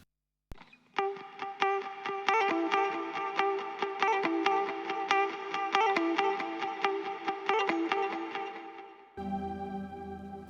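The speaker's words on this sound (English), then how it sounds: "So on top of that we have another variation with the guitars" An electric guitar heavily processed with distortion effects plays a chopped, rhythmic part of sharp repeated attacks within an electronic music track. A brief, different tonal passage follows near the end.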